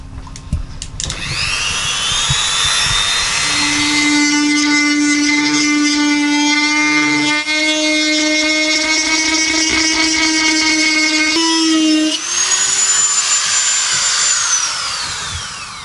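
A Dremel rotary tool running off a 12-volt supply aboard a sailboat whines steadily and loudly for about fifteen seconds, its pitch shifting as load changes, then spooling down near the end.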